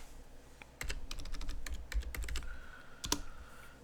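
A password is tapped out on a computer keyboard, a quick irregular run of crisp, close key clicks with a firmer final keystroke.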